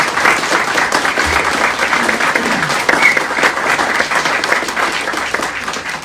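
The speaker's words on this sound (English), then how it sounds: "How about one more big round of applause here, ladies and gentlemen" A sustained, even round of applause from an audience at the NAIG 2023 medal design unveiling, loud and steady throughout with no pause.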